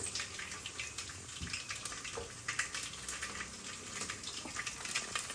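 Mustard seeds and cumin splutter in hot oil in a pan while tomato and drumstick charu is cooked. A dense crackling sizzle holds steady throughout, with sharper pops scattered across it, close and fairly loud.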